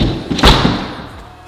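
A stiff front door in a flipped house thuds once as it is forced shut, a heavy close-miked impact that fades into a low rumble.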